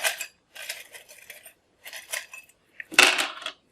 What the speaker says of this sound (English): We'll get some dice as well, because we want some time limits as well.